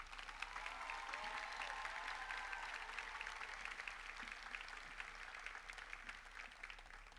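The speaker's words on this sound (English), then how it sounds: "please give Professor McCabe a round of applause." Applause from the audience at a 2025 university commencement ceremony, a soft, distant, continuous patter of many hands held at an even level.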